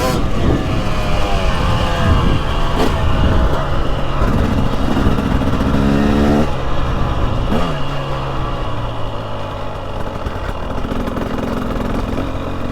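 Engine of a 2023 Husqvarna TX300 Heritage Edition two-stroke dirt bike being ridden, loud and close, with rising and falling revs through gear changes before settling into a lower steady drone.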